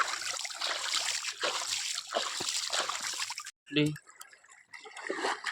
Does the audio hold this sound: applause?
no